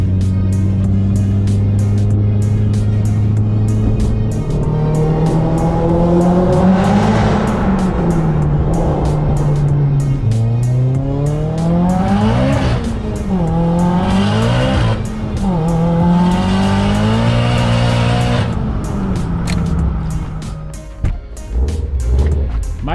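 Engine of a Subaru Grey Series STi driving, loud and continuous with rising and falling revs through gear changes and a brief drop near the end, no talk.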